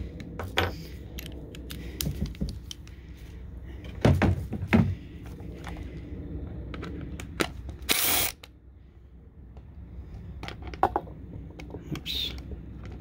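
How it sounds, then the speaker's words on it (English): A cordless drill with a T20 Torx bit backs screws out of a RAM 1500 backup camera, with short whirring bursts, ratcheting clicks and clunks of plastic parts, close by and fairly quiet. "Let's just get our T20 Torx bit, put that on our drill head."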